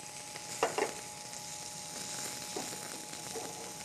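Black bean burgers frying in a little oil in a pan, a soft steady sizzle with a few light clinks and scrapes of a utensil near the start, quiet and close.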